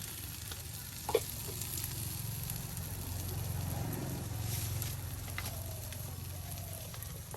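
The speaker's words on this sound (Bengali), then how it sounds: "এই যে দেখুন বড়াগুলো আরও ভাজা ভাজা হওয়ার জন্য কিছু পরিমাণ তেল দেওয়া হচ্ছে।" Lentil fritters (bora) frying in oil in a rural home kitchen, a steady close sizzle and hiss throughout with a brief utensil clatter near the start.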